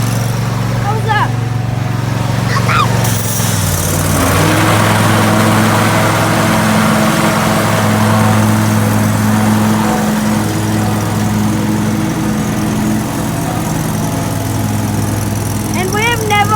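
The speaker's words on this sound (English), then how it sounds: "So let's see how it will mow." A Spartan zero-turn lawn mower's engine runs steadily and loudly throughout while mowing, a constant close drone after a brief shift in pitch near the start.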